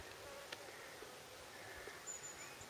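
Honeybees buzz faintly around hives in an April apiary, a soft, continuous hum with a few brief passing flyby tones, distant and quiet with no voices.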